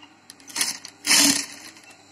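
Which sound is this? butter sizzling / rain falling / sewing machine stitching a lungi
sewing machine stitching a lungi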